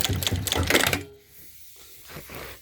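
A Sewtech SW-K6-D4 automatic industrial sewing machine stitches in a fast, chattering run lasting about a second, then drops to a faint quiet hum.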